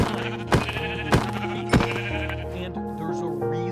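Minecraft sheep give three evenly spaced, close bleats over a constant backdrop of game music.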